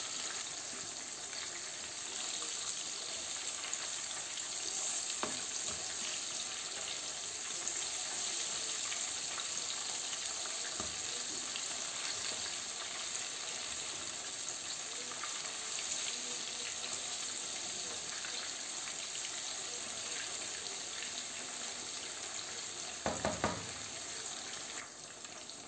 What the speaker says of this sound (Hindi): फिश फ्राई हो चुकी है।